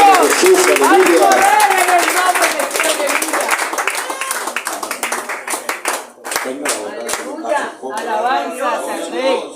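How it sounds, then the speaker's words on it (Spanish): A church congregation applauds with loud, dense clapping that thins into scattered claps, with voices calling out and chatter mixed in. "Demos un aplauso al Señor."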